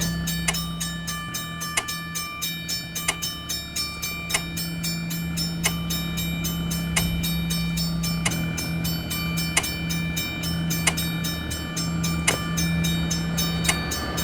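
Train passing a railway crossing in the Railway Crossing Creator game, a steady rumble with a sustained low tone and regular rhythmic clacks repeating about once a second, continuous throughout.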